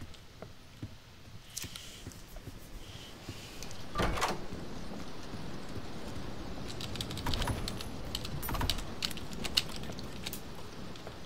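Irregular clacking keystrokes of a typewriter in the Roblox horror game Doors, set in a library, with scattered sharp taps and a heavier thump amid low room ambience.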